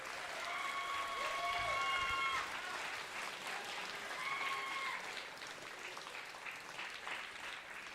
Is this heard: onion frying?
no